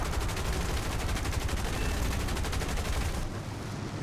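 Aircraft guns in War Thunder rattle in a rapid, sustained burst for about three seconds over a steady engine roar, then cut off, leaving the engine noise alone.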